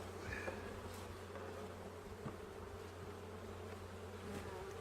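Agitated honeybees swarm around an opened hive with a heavy brood pattern, a dense, steady, faint buzzing drone with no voices.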